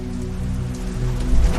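Steady rain falls at night, a dense even patter of drops on a surface that swells slightly louder toward the end, with no voices.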